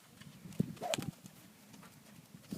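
A horse walks with a few soft, uneven hoof clip-clops. The steps sound faint and somewhat distant against a quiet background.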